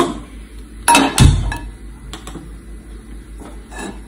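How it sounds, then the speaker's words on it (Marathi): A pan is set down on a home kitchen stove for frying paneer bhaji ingredients, giving a couple of sharp metallic clanks and thumps close by, followed by lighter clinks and taps in a quiet room. "तर मी इथं पॅन पण ठेवलाय."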